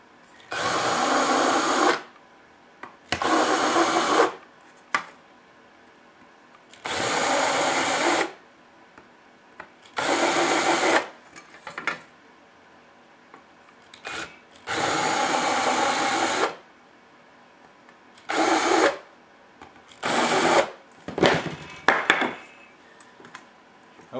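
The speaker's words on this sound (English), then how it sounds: "I'm going to countersink the holes I drilled" A power drill turns a standard countersink bit in previously drilled holes for a scale trailer build, whirring in about nine separate bursts of a second or two each, with quiet pauses between them, close up.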